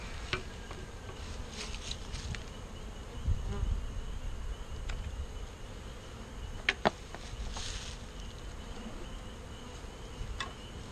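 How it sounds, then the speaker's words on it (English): Honey bees buzz steadily around beehive frames, a soft continuous drone close by with occasional louder passes and faint wooden knocks and clicks of hive handling. "this one's got a few bees in it"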